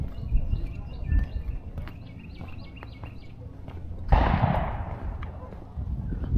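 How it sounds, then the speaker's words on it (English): A cannon firing in the open air along Duke of Gloucester Street in Colonial Williamsburg, heard as a single sharp distant boom with a trailing rumble over street ambience, with birds chirping faintly beforehand. "Cannon fire."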